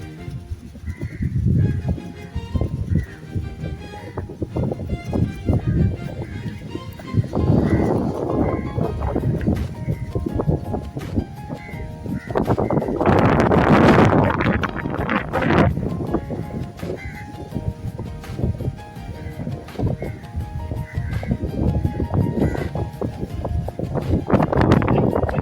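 A paper kite flutters and flaps in gusty open-air wind while flown with children, giving rough, uneven bursts of rustling over steady wind noise, with faint voices at times.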